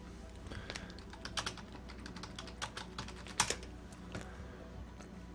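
Fingers tap quickly on a computer keyboard, a run of light irregular clicks with a few sharper keystrokes, close but quiet over a low steady hum.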